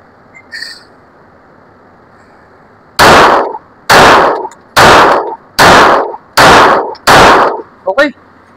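An Armscor STK100 pistol loaded with reloaded ammunition fires six loud, sharp gunshots at a steady pace of roughly one per second, close by at an outdoor range, followed by brief clattering.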